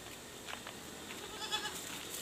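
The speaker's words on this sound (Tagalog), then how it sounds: "Yung iba nating kambing." A few faint goat bleats rise briefly against a steady outdoor hiss, with no talking.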